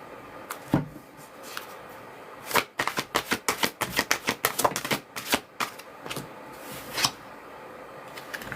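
A deck of Romance Angel oracle cards being shuffled by hand, a quick run of crisp riffling flaps and taps close to the microphone, with a few softer card slaps before and after.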